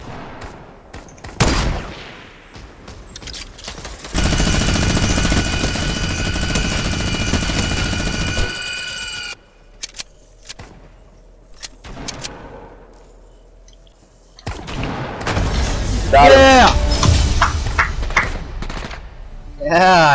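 Fortnite gunfire comes in dense, sustained bursts of rapid automatic shots, loud and close, with a chopper-like roar and quieter gaps of scattered shots between.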